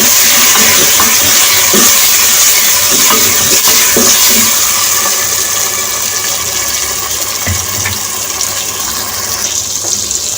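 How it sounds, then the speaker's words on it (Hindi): Roughly chopped tomatoes being mixed into frying onions in a pan for pumpkin (kaddu) sabzi, a steady loud sizzle with scraping and stirring clatter throughout, no voices. "अब इसके साथ ही मैं ये 2 टमाटर ऐड कर रही हूँ बारीक। मैं रफली से मैंने काट लिए थे, बारीक तो नहीं है। इनको मिक्स करूँगी।"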